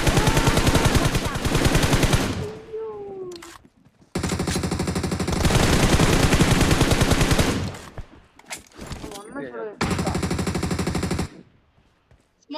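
In a shooting video game, bursts of rapid machine-gun fire come loud and close in several long volleys, separated by brief gaps with faint sweeping effects.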